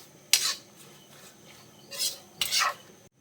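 Chili powder being mixed into spicy beef pickle, three short scraping stirs of a spoon through the thick mixture, close and clear, with quiet pauses between and no voices.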